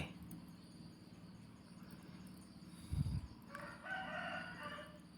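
A rooster crows faintly in the distance against a quiet rural background, with soft insect chirring throughout, on a farm raising Burmese fighting chickens in Thailand.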